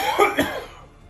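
A dry cough, two quick close bursts followed by a short throat-clearing trail, alone in a quiet room during a Terraforming Mars board game session.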